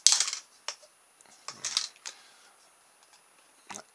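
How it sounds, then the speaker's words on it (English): Scissors cutting a cheap plastic trellis, giving a few sharp snapping clicks and brittle cracks spaced out over several seconds, close and crisp with quiet gaps between cuts. "He reckons you can cut them with scissors."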